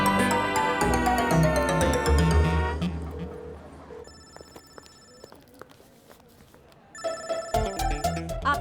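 A mobile phone ringtone chimes in a lively comedy scene, a melodic electronic tune that plays loudly, breaks off, then returns in short repeated bursts with footsteps and faint background sound between.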